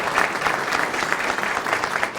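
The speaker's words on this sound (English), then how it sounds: "Let's have a nice round of applause for that." Members of the Linden Fire Department are applauded by a crowd at their 2025 valor awards ceremony, a loud, continuous clatter of many hands that stays thick and even, with no voices over it.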